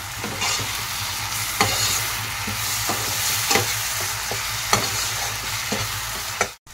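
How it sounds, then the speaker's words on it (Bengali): Spice paste with tomato and salt sautés in a pan for egg lababdar, a constant close sizzle punctuated by regular spatula scrapes and stirs before cutting off abruptly, with no talking. "পেস্টটা দিয়ে আমি এটা কষতে থাকবো।"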